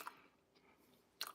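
Quiet, close chewing of a Philly cheesesteak sandwich with onions, peppers and cheese, a soft wet bite at the start, faint mastication, and then a louder crunchy bite at the end.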